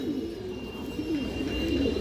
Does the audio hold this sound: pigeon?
yes